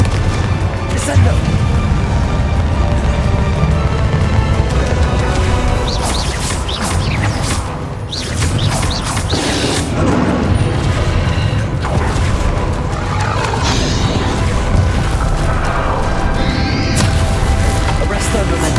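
Spell explosions and blasts from the Confringo spell in the video game Hogwarts Legacy, dense booms and crashes with whooshes layered over continuous game music and effects, voiced spell incantations heard throughout.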